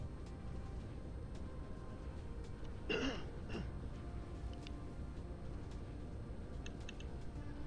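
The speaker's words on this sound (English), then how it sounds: "Just had a cough there." A single short throaty cough or throat clear breaks through quiet background hum, followed by faint small clicks.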